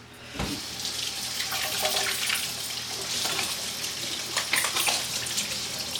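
Running water from a kitchen tap splashes over hands being washed, starting with a thump and continuing as a steady, close gushing stream.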